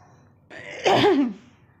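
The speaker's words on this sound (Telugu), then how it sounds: "సారీ, మాటికి దగ్గు వస్తూ ఉంది." A single close, rough cough erupting after a quiet moment, with a short throaty burst before fading out.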